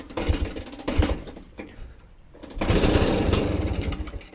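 A BSA Bantam 175 D10 motorcycle's small engine clatters as it starts, with mechanical rattling, a brief dip, then a sustained louder revving burst close by.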